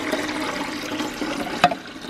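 Water pours into an Igloo countertop ice maker in a steady, close splashing stream, with one brief clunk near the end.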